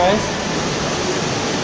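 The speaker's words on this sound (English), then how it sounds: "It sounds like there's like a waterfall or something up here" A waterfall near a cave rushes as a steady, broad roar, close and constant, with a person briefly speaking over it.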